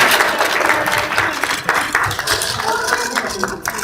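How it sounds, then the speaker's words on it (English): Children in a kids' audience at a Lego bucket race event cheer and clap for their teams, a steady dense wash of applause and shouting throughout, with some voices mixed in. "Everybody cheer for your teams"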